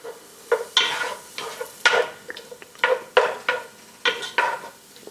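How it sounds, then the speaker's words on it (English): Vegetables sautéing in a pan for soul food black-eyed peas: a quiet sizzle under repeated scraping and clinking strokes of a utensil against the pan, in an irregular stirring rhythm, close and without talk. "we're going to saute these"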